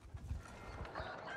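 Hooves clip-clopping in a rhythmic run from horses in the video game Mount & Blade II: Bannerlord, close and moderately loud, with a faint whinny-like tone and no speech.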